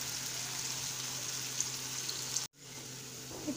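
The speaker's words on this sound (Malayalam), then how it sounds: "അരിഞ്ഞു വെച്ചിരിക്കുന്ന സവോള ഇട്ട് കൊടുക്കാം ഇത് നല്ല ഗോൾഡൻ ബ്രൗൺ കളറിൽ നമുക്ക് മൂപ്പിച്ചെടുക്കാം" Steady, dense crackling sizzle of sliced onions frying golden brown in a pan, continuous and fairly loud, with a brief cut near the end before the sizzle resumes.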